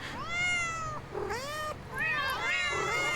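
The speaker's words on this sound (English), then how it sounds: "Alright, that's a cat." A cat in a horror video game gives several clear, drawn-out meows in quick succession, close and fairly loud, with no talking over them.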